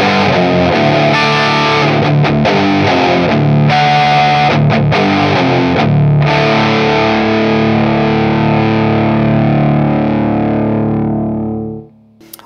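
An Epiphone Les Paul electric guitar on a clean tone rings out in sustained chords and notes, fairly loud, then fades to near silence at the end.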